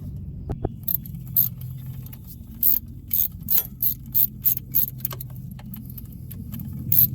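A ratchet snugs up bolts during a Chevy Cruze timing belt replacement, giving bursts of quick clicking strokes with short pauses between them, close and fairly loud, with no talk.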